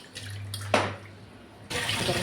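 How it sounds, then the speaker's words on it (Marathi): Hot water runs from a kitchen tap into a pot to make it lukewarm, a steady splashing stream in two bursts separated by a quieter pause, fairly close. "आता थोडंसं गरम पाणी करायचं आणि गरम पाणी लगेच निघतात बघा"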